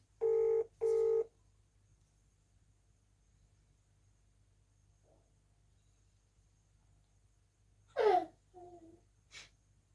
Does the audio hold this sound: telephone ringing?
yes